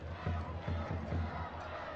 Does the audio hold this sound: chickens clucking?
no